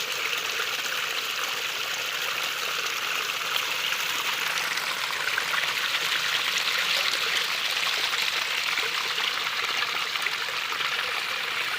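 Clear water flows from a natural spring outdoors, a steady bubbling trickle and stream that runs continuously at moderate loudness, close by, with no talking.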